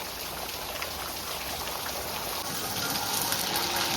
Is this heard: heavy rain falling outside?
yes